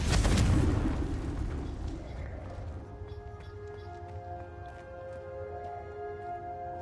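Magical blast spells, Confringo and Bombarda, go off in Hogwarts Legacy: a loud, booming burst opens, then it fades into a ringing, tonal shimmer that lingers for several seconds.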